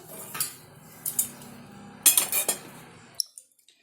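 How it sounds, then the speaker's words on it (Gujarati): A spoon stirs spiced puffed rice and sorghum chevda in a metal pot, making a few bursts of clinking and scraping that stop near the end. "હવે આને બરાબર બધું મિક્સ કરશું"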